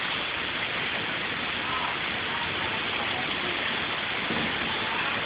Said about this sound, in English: It's raining while the sun's out still.